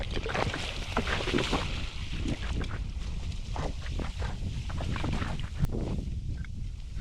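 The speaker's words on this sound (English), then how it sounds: "This wind is perfect for her today." Gusty outdoor wind at a duck hunting slough, buffeting and rumbling close against the microphone in uneven bursts, with faint rustling and splashing beneath, no speech.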